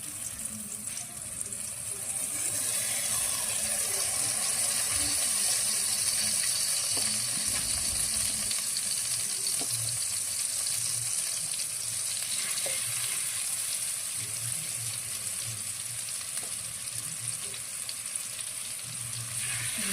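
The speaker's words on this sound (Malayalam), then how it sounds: "നമ്മൾ രണ്ട് പാത്രങ്ങളിലായാണ് പൊരിച്ചെടുക്കുന്നത്" Chicken pieces fry in oil across two pans, a loud, continuous crackling sizzle that holds steady and close for the whole stretch, with occasional soft scrapes and no talking.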